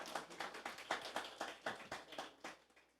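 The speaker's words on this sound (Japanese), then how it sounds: "賢い方は大きな拍手をしましょう" A church congregation claps during a sermon with a rhythmic run of fairly even claps, roughly four per second, coming from a smaller group and sounding moderately distant.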